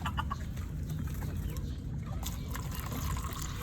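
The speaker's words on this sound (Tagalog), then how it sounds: "Si Matapang, bigyan natin ng tubig." Water trickles as it is poured for a thirsty farm chicken, a faint continuous dribble under low rumbling background noise, with a few soft clucks and a brief louder knock at the very end.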